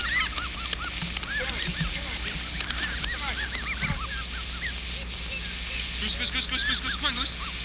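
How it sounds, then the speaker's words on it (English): A flock of geese, water birds, honks repeatedly in bursts of overlapping calls, close and fairly loud, over a soft hissing background. "Come on, geese, come on, geese, come on, geese"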